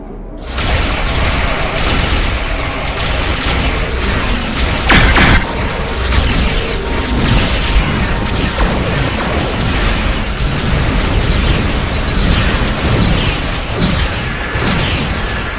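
Weapons fire in the space-combat game Star Trek Online, with an anti-tachyon pulse and a station plasma lance discharging against a Jem'Hadar dreadnought carrier. The result is a dense, loud, continuous wall of mechanical roar and bursts, with one sharp blast standing out midway.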